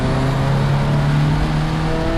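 A turbocharged Subaru BRZ engine drones steadily under load while driving, a loud continuous in-cabin tone holding a high rev with no talking.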